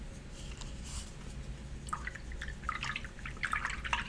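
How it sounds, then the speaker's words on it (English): A paintbrush being rinsed in a water container, with close, soft drips and swishing splashes that are sparse at first and grow busier toward the end. "I'm going to rinse my brush out."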